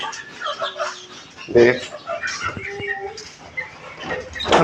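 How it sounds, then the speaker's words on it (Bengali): Chickens and chicks cluck in short bursts, some higher chirps among them, with a person talking over the flock throughout. "এটা হচ্ছে আমার সকল মুরগির বাচ্চা গুলার আপডেট"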